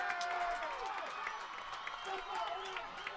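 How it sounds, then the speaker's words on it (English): A crowd cheers and whoops at a junior field hockey match on an astro turf pitch in Zimbabwe, a broad sustained roar at moderate distance, with a commentator talking over it. "To the cheers of the crowd."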